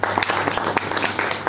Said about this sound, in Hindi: तो मैं चाहूंगी कि जोरदार तालियां हमारे संदीप जी के लिए और नारायण जी के लिए